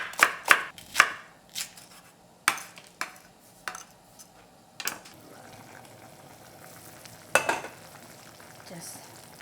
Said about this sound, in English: Chop 2 green onions.